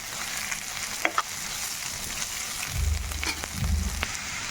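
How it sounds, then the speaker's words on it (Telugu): Ginger garlic paste fries in a pan for an Indian curry, giving a steady crackling sizzle close by with two louder bursts of stirring toward the end. "మంచి అరమ వచ్చేలాగా అల్లం వెల్లుల్లి పేస్ట్ని ఫ్రై చేసుకోవాలి."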